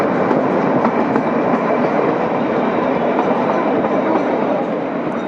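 Kalka–Shimla toy train rolling through mountains in the early morning, a loud, steady rumble of wheels and carriage with faint rhythmic clatter throughout.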